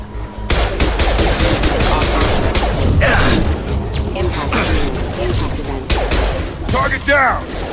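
Rapid bursts of gunfire from a Mass Effect 2 firefight crackle loudly and almost continuously, with shouted voices cutting in over the shooting.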